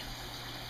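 Steady rushing water flows through a newly built DIY sump for a 125-gallon reef tank during a water test, a continuous broadband stream with no voices.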